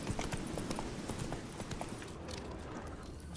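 Hooves of Roach, a horse in The Witcher 3: Wild Hunt, clip-clop in a steady trotting rhythm on a road, close and fairly loud against a constant outdoor bed of ambience.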